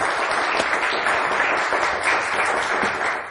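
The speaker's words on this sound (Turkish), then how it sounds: "Alkış geldi." On the Kelime Oyunu quiz show, a studio audience gives a sustained round of applause, a thick, even wash of clapping that holds steady throughout.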